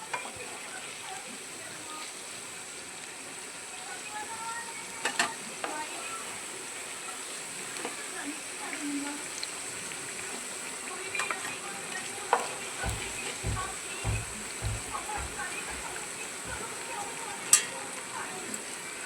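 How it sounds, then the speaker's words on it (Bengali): Food frying in oil until reddish, a soft continuous sizzle with occasional clicks and a few low bumps toward the end; no talk over it. "লাল লাল করে ভেজে তুলে নেবে।"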